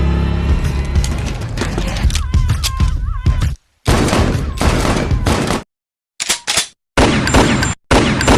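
Rapid bursts of gunfire, loud and close, broken by brief silences, with music or a scene soundtrack fading out beforehand.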